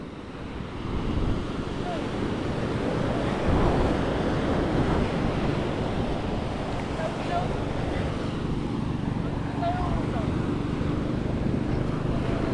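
Steady ocean surf rumbles continuously with heavy wind buffeting the microphone, a broad wash of sound that never lets up.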